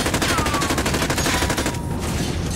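Automatic gunfire in the video game Call of Duty: Modern Warfare, a continuous dense rattle of rapid shots, loud and sustained throughout with no talk.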